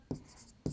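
Pen on paper writing out a maths solution, two short scratchy strokes close to the microphone in a brief quiet moment.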